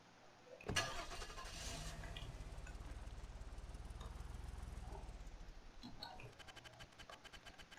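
A car engine starting in the video game Apocalypse Rising: a sharp crank followed by a steady, fairly loud rumbling run that tapers off after several seconds.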